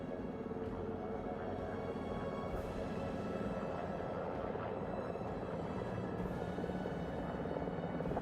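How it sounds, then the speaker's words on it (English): A helicopter comes in to land on a ship's flight deck after an Artemis II splashdown, its rotor a steady, dense, distant-sounding roar with a faint rhythmic chop that holds constant throughout, no voices over it. "The first helicopter coming in."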